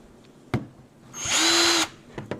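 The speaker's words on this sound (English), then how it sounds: "Now let's drill a little bit more again." A power drill bores into a Trackmaster Thomas toy train, one short whining burst of about a second standing out clearly after a faint click, with no talk.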